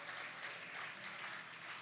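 A church congregation applauds for the King of Kings, a steady and fairly faint wash of many hands clapping together.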